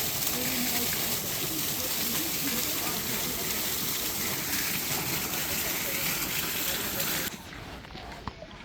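Flowing water at Butchart Gardens, a steady close splashing rush like a fountain or small stream that drops away sharply near the end, leaving quieter ambience with a brief knock.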